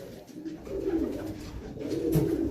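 Racing pigeons coo in a low, repeated rolling murmur, several birds overlapping close by, steady throughout with one brief louder note near the end.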